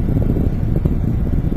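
Gusting wind in the aftermath of Hurricane Gustav buffets the microphone in a low, rumbling, fluttering roar that swells and dips continuously at close range.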